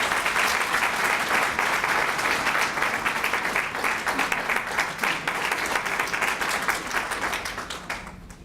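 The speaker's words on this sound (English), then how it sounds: "Jennifer Deeks, give her a round of applause" Sustained applause fills a Women's History Month celebration hall after a woman is introduced, dense steady clapping from a crowd that holds loud for about eight seconds before tapering slightly at the end.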